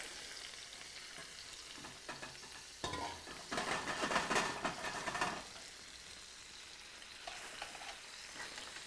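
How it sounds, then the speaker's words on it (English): A honey mixture sizzles steadily in a frying pan, with a louder burst of scraping and rattling from about three to five seconds as the pan is shaken, then the frying settles back to a gentle hiss. "Let's give the pan a little shake."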